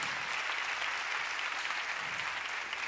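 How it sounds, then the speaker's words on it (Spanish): Audience applause for the drummers at a drum festival in Seville, a dense, even roar of many hands clapping that stays steady and fairly distant for the whole stretch, with no talk over it. "Please give a very warm round of applause to all the artists who play here"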